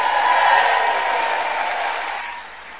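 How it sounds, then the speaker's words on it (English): A crowd at a town hall rally in Nebraska claps in dense, sustained applause that starts loud and slowly fades over a few seconds. "Put your hands together for Move On."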